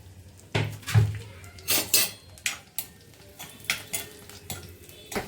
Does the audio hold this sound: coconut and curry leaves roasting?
yes